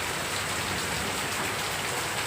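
Heavy rain pours down in a village in a steady, dense hiss of drops on surfaces, unbroken and fairly close, with no voices.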